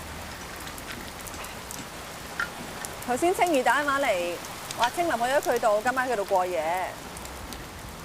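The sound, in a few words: heavy rain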